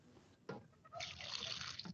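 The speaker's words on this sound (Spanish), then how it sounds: "Vamos a ponerle acá un poquito de agua" Water poured from a container into a kitchen blender, a close trickle that starts abruptly and runs as a steady splashing fill with small gurgles.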